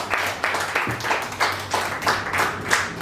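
An open-mic poetry audience claps for a poet, a steady rhythmic burst of many hands that stays loud and even for about three seconds without pause.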